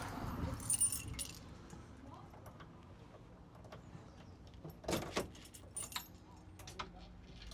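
Set of keys jangling in a VW T3/T25 Vanagon, a bright metallic rattle near the start followed by a few sharper clinks and handling noises later, close by over a faint background hum.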